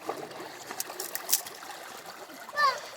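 Water trickles from a bottle at Kalmandavi waterfall, a faint, uneven dribble with small splashes and a louder splash near the end, with soft voices nearby.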